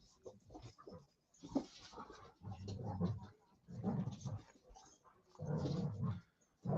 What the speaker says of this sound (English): we're babysitting dogs again, so you're going to hear growling and barking